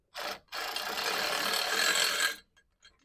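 A socket wrench working a lock nut loose on a BMW E36 M3 exhaust, giving two close, rasping ratchet strokes, the second long and steady, followed by faint small clinks.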